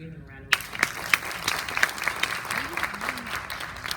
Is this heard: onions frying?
no